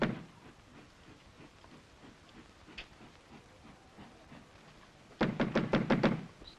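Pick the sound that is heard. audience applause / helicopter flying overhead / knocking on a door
knocking on a door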